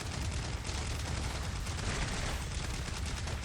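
Dense, continuous gunfire in the video game Romeo is a Deadman, loud rapid shots blurring into a constant roar with no pauses.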